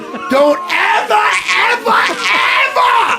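A man yells in a raised, strained voice during a lively talk-show conversation about a UFC fight. The shouting comes in close, loud, continuous bursts for about three seconds.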